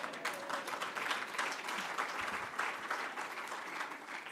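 Steady round of applause from an audience at a university gala dinner, a dense continuous patter of many hands, fairly distant and soft, with no talking over it.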